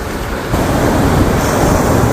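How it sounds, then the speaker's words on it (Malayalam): Sea waves rolling onto a beach with a continuous loud wash of surf and wind buffeting the microphone, swelling slightly after the first half second. "തിരമാല വന്നുകൊണ്ടിരിക്കുന്നു."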